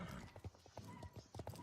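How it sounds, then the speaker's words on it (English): Rhythmic hooves clip-clop at a steady pace, close up, with heavy breathing woven between the footfalls. "Not just the hoofs. The horse is breathing, and very rhythmic, like a horse really would do."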